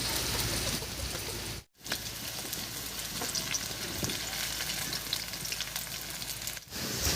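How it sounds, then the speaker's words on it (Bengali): Bori, small sun-dried lentil dumplings, frying in oil in a pan, a dense steady crackling sizzle heard close up with no talk, broken by one brief pause near the start. "বড়গুলো ভাজা হতে থাক"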